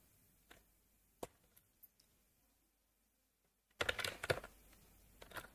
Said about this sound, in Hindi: मैं इसमें थोड़ा टाइप कर लेता हूँ